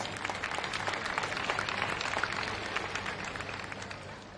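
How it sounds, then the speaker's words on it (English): Audience at a karting academy event claps for the young Mini 60 Under 10 racing drivers, a short, even burst of moderate applause from a scattered crowd outdoors. "please give one big round of applause for Mini 60 Under 10."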